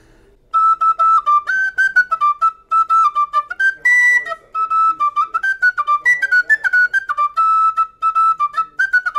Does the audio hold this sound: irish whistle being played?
yes